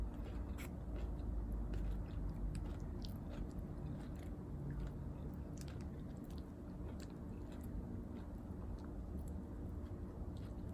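Crunchy carne asada chips are bitten and chewed close up, a steady run of crisp crackles and crunches over a constant low background hum, with no talking.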